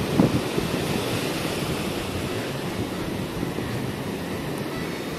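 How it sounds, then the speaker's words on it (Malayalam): Rough sea at high tide on Palolem beach in South Goa, near a river estuary: a steady, loud roar of surf breaking continuously, with gusty wind buffeting the microphone and no voices. "കടൽ അത്ര ശാന്തമല്ല."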